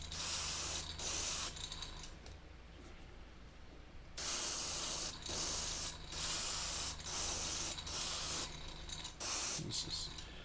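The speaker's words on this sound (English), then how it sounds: "We have the airbrush and the primer out." Primer sprays from an airbrush onto miniature tabletop bases in short hissing bursts of a few seconds each, separated by brief pauses, close and steady.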